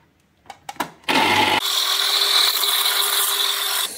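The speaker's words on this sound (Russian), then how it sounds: "Я отожму сок 400 мл и дальше покажу." An electric juicer pressing a fresh orange: a few sharp clicks as the fruit is set in place, then a loud steady motor whir with a grinding edge that runs for several seconds before cutting off.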